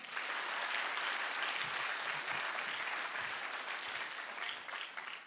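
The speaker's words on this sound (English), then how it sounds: "whoever receives the loudest clap wins" A camp crowd claps loudly for a contestant in a loudest-clap contest, dense sustained applause filling the whole stretch at steady volume before easing slightly at the end.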